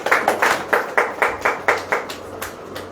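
A crowd at a Hindi Christian preaching service claps in unison, about ten steady rhythmic beats, loud and close. No one speaks over it.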